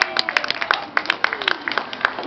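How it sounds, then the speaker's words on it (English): Party guests at a ninth birthday clap together for a pet bird, a dense run of sharp close handclaps lasting a couple of seconds, with a few scattered voices underneath. "Let's clap for the bird, everybody."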